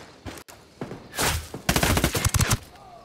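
Sniper and rifle fire in the game Ghost Recon Wildlands, a quick series of loud, sharp shots with a rapid cluster of cracks near the end.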